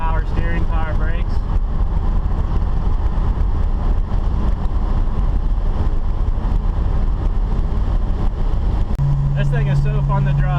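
A 1967 Ford Mustang on the move, with a steady, loud engine drone and road rumble running throughout, a voice talking over it.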